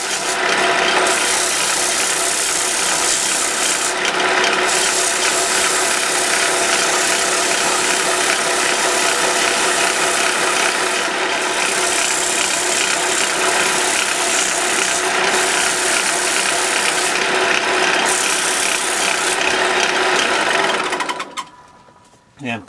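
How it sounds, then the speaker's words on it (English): A turned two-by-four wood candy bowl is sanded on a running lathe, making a loud, continuous mechanical whir and rasp that holds steady for about twenty seconds before winding down. "I'm going to take the I I gotta sand it."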